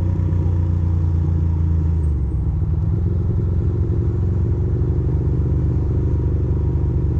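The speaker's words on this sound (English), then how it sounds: "I'm listening to my motor to make sure to see how it's idling." A Ducati motorcycle engine idles steadily and close, its low throbbing rumble changing pitch slightly partway through, with no voices.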